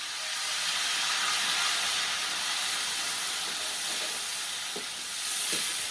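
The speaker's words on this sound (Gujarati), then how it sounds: "આને કહેવાય વઘાર હા ઓરાનો વઘાર" Steady, bright sizzling of spices frying in hot oil, a continuous crackling hiss close by with a few faint clinks underneath.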